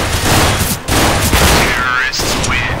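Gunfire in a video game comes as rapid, loud cracks in dense bursts with brief gaps between them.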